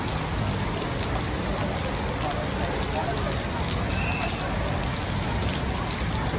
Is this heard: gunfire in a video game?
no